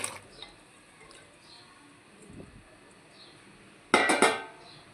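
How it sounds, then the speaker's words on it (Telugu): Water from a glass is poured into a kadai of cluster beans, a short splashing gush late in the clip that follows a quiet stretch of faint kitchen background. "మనము ఒక గ్లాస్ వాటర్ వేసుకుందాం అండి"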